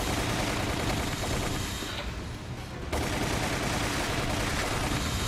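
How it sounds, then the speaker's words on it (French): Sustained rapid machine gun fire from Resident Evil The Umbrella Chronicles, loud and continuous with a brief dip in intensity partway through, dense bursts of gunshots layered with game effects. "C'est une mitrailleuse, je vais la prendre."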